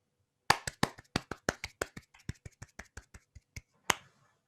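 Applause on a podcast comes as a quick run of about sixteen sharp, close hand claps in a steady rhythm, fading slightly before one last clap, with no talking.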